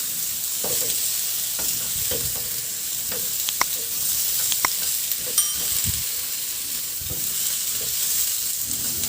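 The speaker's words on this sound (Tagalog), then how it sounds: "I-sear ko muna hanggang sa mag-brown lang." One kilogram of serving-cut pork belly (liempo) sears in a pan, producing a steady close hiss of sizzling fat with scattered pops, crackles and a few light clicks of tongs or utensils.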